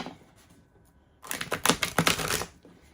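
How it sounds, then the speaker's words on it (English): Tarot cards are shuffled close by in one dense burst of rapid riffling clicks lasting about a second, following a quiet start. "I think we got a good shuffle."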